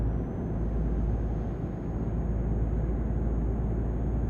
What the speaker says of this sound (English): A DAF. Certainly has a bit of a louder engine